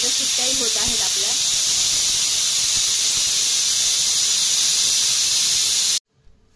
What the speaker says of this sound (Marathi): कुकरच्या शिट्ट्याही होत आहेत आपल्या.